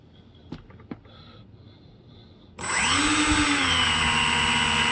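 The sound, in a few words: foamboard snow skimmer thrust motors spinning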